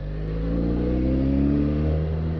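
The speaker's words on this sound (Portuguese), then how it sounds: "O som do motor e escape também é muito giro" A QJ SRK400 motorcycle's engine and exhaust rev up in a deep, steady accelerating drone, close and loud throughout.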